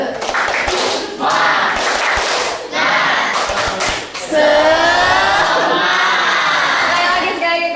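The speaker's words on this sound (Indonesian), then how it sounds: "Coba tepuk semangat dulu biar nggak loyo." A school class performs the 'tepuk semangat' clapping chant, with bursts of rhythmic group claps and thumps followed by children chanting and shouting together loudly in a classroom.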